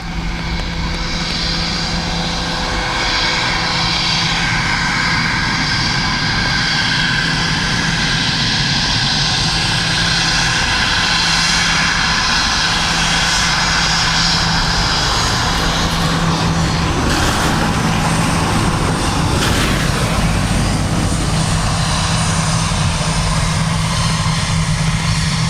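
Aircraft engine of a plane arriving at Dublin Airport from Manchester, a loud, steady broadband roar held close throughout with a slight swell near the end, no talk over it.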